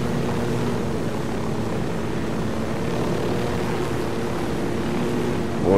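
Aircraft piloted in Ghost Recon, a steady propeller-engine drone that holds loud and even throughout, with no talk.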